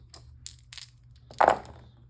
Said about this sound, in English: both players roll all their dice